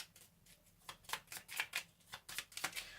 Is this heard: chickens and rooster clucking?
no